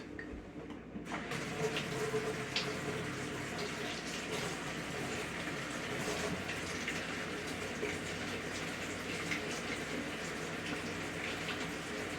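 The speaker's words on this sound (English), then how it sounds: "Definitely wash your hands." Water runs steadily from a tap during handwashing in an outdoor cooking setup for wild pasta, a continuous close rushing that begins abruptly after a brief quiet opening and holds level to the end.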